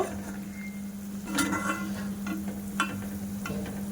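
Khaja sweets made of flour and sugar deep-fry in oil on a low flame, a steady soft sizzle with a few sharp scraping stirs, close up, over a constant low hum.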